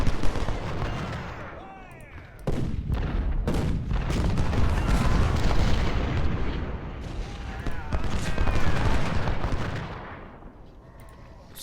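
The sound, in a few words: artillery guns firing in Ultimate General: Civil War video game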